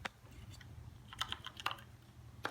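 Arrow keys tapped on a computer keyboard, a few quiet, close clicks scattered irregularly over a soft background hum, with a small cluster of quick presses near the middle.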